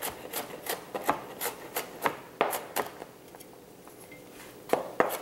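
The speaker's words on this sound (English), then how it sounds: "Next is garlic. I'm gonna smash it. And then mince it." Garlic is smashed and then minced with a knife on a board, heard as a run of sharp, close chopping taps, irregular and quick, with a pause before a few final knocks.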